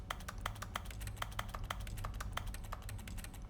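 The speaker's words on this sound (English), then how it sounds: "Is that meant to be a keyboard" Rapid keyboard typing in The Stanley Parable video game, a steady stream of crisp key clicks in an even, busy rhythm, close and clear with no talk.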